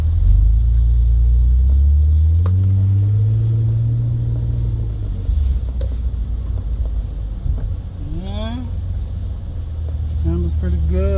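Car with a freshly rebuilt 4L60e automatic transmission pulling away on a road, the engine note rising through a long acceleration and then easing off, with steady road rumble and wind underneath and a voice speaking briefly near the end.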